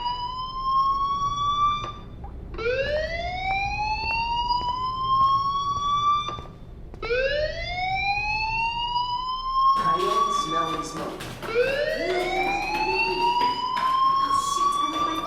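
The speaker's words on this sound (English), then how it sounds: "do you hear that fire alarm?" A fire alarm wails in the video game Life Is Strange, a rising electronic siren tone that sweeps upward in repeated cycles of about four seconds, loud and steady with a brief break between each rise.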